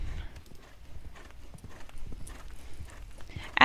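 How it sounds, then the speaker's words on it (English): Galloping horse hooves from a visual novel game's sound effects, a quick, even clip-clop patter that runs steadily and stays fairly close, with no voices over it. "Ash flicked her reins, her horse neatly shifting into a harsh gallop."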